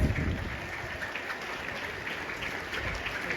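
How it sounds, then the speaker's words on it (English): A gathering of teachers at a Teachers' Day celebration claps for themselves, a dense, even wash of many hands clapping that sounds like a patter of rain, steady and moderately distant with no voices. "Let us give a big hand clap for ourselves, all the teachers."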